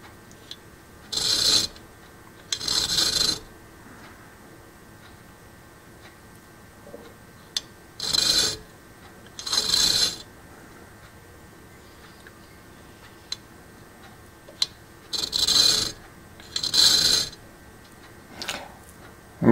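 A hand file cuts small notches along the teeth of a veneer saw in a marquetry workshop, sounding as short bursts of raspy filing strokes in pairs and small clusters, separated by quiet pauses.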